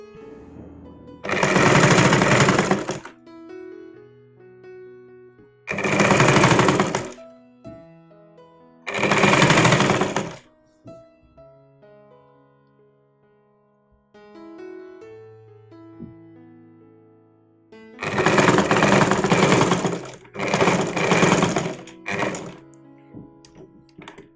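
A sewing machine stitches piping onto a garment neckline in several loud bursts of rapid needle chatter, each a few seconds long, separated by quieter gaps where fabric is handled and someone talks softly.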